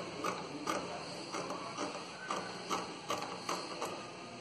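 A sewing machine stitches fabric for a pencil skirt, giving a steady mechanical run of rhythmic clicking and whirring pulses, close by and moderately loud with no talking.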